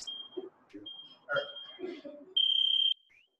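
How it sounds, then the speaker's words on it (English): Electronic interval timer buzzer at a youth Brazilian jiu-jitsu class, sounding one loud sustained beep after a thin tone and some talking, then a short chirp. "I'm going to go ahead and turn on the timer really quick"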